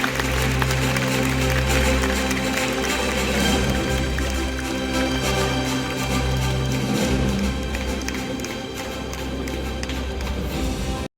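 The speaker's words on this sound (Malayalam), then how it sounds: "നിറഞ്ഞൊരു കൈയടിയോടെ നമുക്ക് ഈ ചടങ്ങിൽ പങ്കെടുക്കാം" An audience claps at a 25th anniversary award celebration in Thiruvananthapuram as a guest is welcomed on stage, steady applause over a low thumping music bed throughout.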